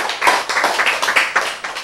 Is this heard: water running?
no